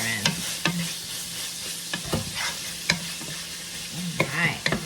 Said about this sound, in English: Let's just get all this simmering.